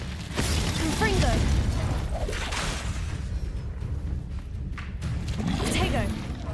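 Confringo fire spell cast in Hogwarts Legacy, heard as a sharp burst with whooshing, thudding impacts and crackling mechanical clatter amid game effects, while a voice speaks over the action.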